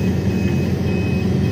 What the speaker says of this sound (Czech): pípání dveří jiné než obvykle